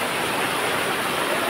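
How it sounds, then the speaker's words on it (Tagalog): Heavy rain pours down in a dense, steady roar with no breaks, loud and continuous, no voices. "Napakalakas po ng ulan."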